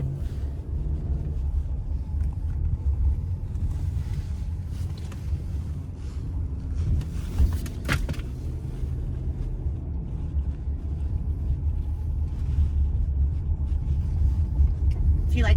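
A 4-cylinder car engine pulls hard under acceleration, a steady low rumble and road drone heard from inside the cabin, with faint wind noise throughout and no break in the sound.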